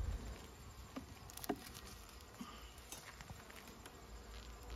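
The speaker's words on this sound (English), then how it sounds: "Lots of bees in here, lots." Honey bees buzz in an open beehive box in Canada, a faint, steady hum with light tapping and handling noises close by and no voices.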